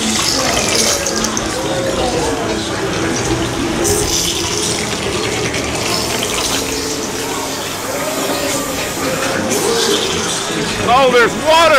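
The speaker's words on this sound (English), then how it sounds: "Oh, there's water!" Water spraying and splashing in a haunted house attraction at a Halloween horror event, a steady loud hiss running throughout under frightened shouting and talk from visitors.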